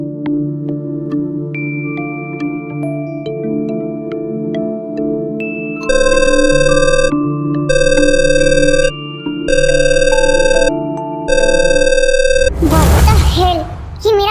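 A melodic phone ringtone plays over several seconds, rising into a repeated chiming pattern, then cuts off into a brief burst of noise.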